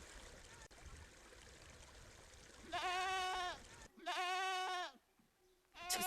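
Goats and sheep on a livestock farm bleat in several loud, drawn-out calls, one after another, over a faint trickling stream and low background murmur.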